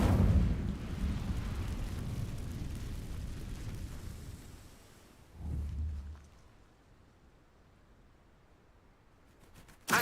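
A fire spell is cast in the wizarding video game Hogwarts Legacy: a loud, roaring burst that fades slowly over several seconds. A short low thump follows midway and a sharp click comes at the end, with no voices.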